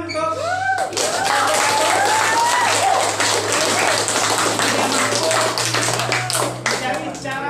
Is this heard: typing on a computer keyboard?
no